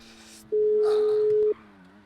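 A single steady telephone tone sounds for about a second while a call is placed, a clean sustained beep standing out loudly over a faint background hum and brief muffled voices.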